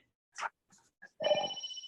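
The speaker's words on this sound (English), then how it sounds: "Oh, there's the phone's ringing." A phone rings during a school orientation session for juniors and parents, a brief tonal electronic ring that sounds a few short bursts and then settles into a steady sustained tone at the end, with no talking over it.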